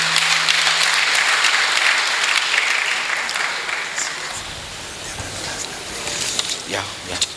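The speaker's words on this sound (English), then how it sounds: "Let's give him a round of applause," Audience applause at a district awards ceremony, a dense wash of clapping that swells and gradually thins out, with voices talking over it near the end.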